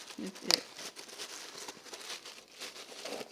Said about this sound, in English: Sorry about the crinkling. I hope it's not too loud.